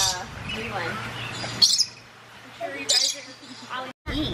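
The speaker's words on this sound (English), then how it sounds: "I guess some of the Lorikeet just came up close." Lorikeets give a few sharp, high chirps close by at a zoo, breaking through a person talking over a low steady hum.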